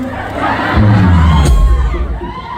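A large Thai concert crowd of fans cheers and shouts loudly, a dense, sustained roar that swells and holds throughout.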